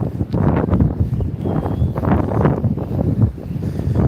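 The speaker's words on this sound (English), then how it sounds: "the wind is gusting anywhere from 30 to 50 miles an hour today" Strong wind gusting 30 to 50 miles an hour at a cold snow-tubing hill buffets a microphone in loud, roaring gusts that rise and fall continuously for several seconds.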